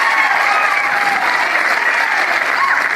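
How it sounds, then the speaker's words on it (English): A pickleball crowd at the Atlanta Open claps and cheers loudly and continuously, a dense wall of applause from a near audience that stays even for the whole moment. "Tyson Mcguffin gets this crowd going."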